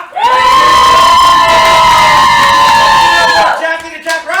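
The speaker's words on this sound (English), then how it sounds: "if you think that they deserve the points, let's give them a little bit louder of a cheer" A live game show studio audience cheers and shouts loudly in a single sustained burst lasting a few seconds, then quickly fades out.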